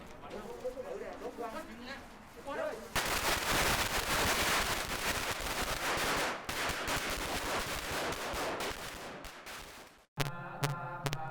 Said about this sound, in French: allumer des pétards afin d'éloigner les mauvais esprits